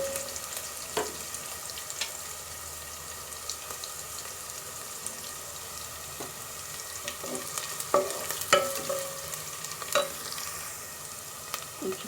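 Onions fry gently in a pan for tomato bath, a faint steady sizzle broken by a few light scraping stirs and spoon clinks, soft and close, with no talking.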